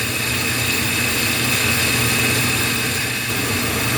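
A home furnace's induction motor runs with a steady, even whir and a constant tonal hum, unchanging throughout, heard up close with no talking.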